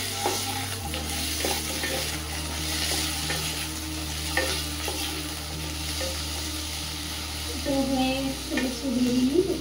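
Food sizzles steadily in a pan while pointed gourd and chicken are cooked, a continuous close frying hiss with occasional stirring scrapes and no talking.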